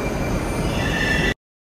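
Moscow metro train running, a steady loud rumble of wheels and carriage with a faint squeal, cutting off abruptly after a second and a half.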